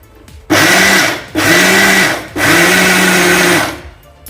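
A mixer grinder grinding a sesame and jaggery mixture whirs loudly in three bursts, each running about a second, with short pauses between as it is switched on and off.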